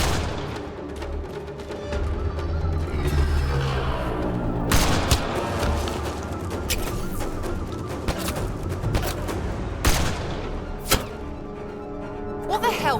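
Gunfire and explosions in a Mass Effect Andromeda firefight: bursts of shots and heavy booming impacts over a dense game soundtrack, with thuds throughout and voices shouting in the background.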